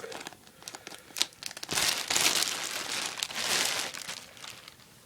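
A large Ziploc plastic bag is handled and crinkled close up, with bursts of loud rustling and crumpling that swell and fade over several seconds.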